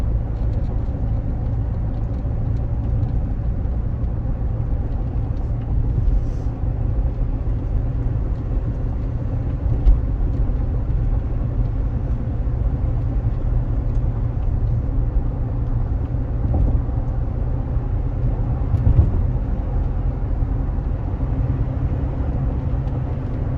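A 2007 Chrysler 300 cruises down the road with a constant low rumble of engine, tyre and road noise heard from inside the cabin, steady and unbroken, with no talking.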